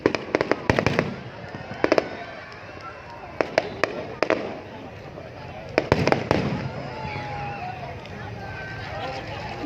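Fireworks set off to celebrate Long Khanh becoming a city crack and boom in rapid clusters of sharp bursts, with people talking and chattering nearby between the volleys.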